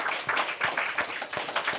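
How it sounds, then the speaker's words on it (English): Audience applause for a panel at a discussion event, a steady wash of many hands clapping throughout the short stretch, moderately loud and continuous with no talk over it. "let's have a round of applause for our panel"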